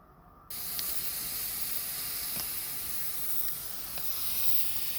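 Quince tajine simmering in its pot, a steady broad hiss of steam and gentle sizzle that switches on abruptly and carries on evenly, close and moderately loud with no talking.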